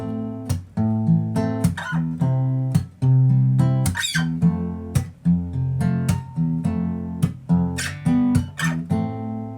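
Strummed guitar plays the chord part of a song slowly, with rhythmic strums broken by sharp muted chops, clear and close with no voice over it.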